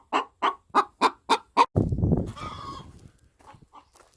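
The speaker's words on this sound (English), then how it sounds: "Thank you, chickens." Chickens cluck in a quick run of six or seven sharp, evenly spaced calls close by, followed by a burst of rustling and a few softer clucks trailing off.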